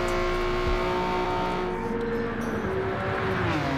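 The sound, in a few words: Toyota Yaris racing exhaust engine, video game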